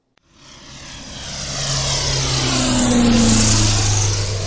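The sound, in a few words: small propeller airplane engine during takeoff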